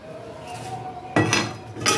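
Butter being stirred in a cooking pan for vegetarian navratan korma, with a steady low sizzle and a couple of sharp clinks and scrapes of a utensil against the metal pan.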